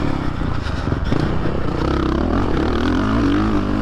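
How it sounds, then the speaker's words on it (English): Suzuki RMZ450 dirt bike engine lugging at low revs through a muddy right-hand rut on a motocross track, a loud close throaty rumble that rises slightly in pitch toward the end, with no talk. "I don't know if you guys can hear my engine lugging through that right-hand rut"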